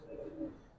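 Giribaz pigeons coo in a low, soft, rolling murmur, one close continuous call swelling over less than a second with no talk over it.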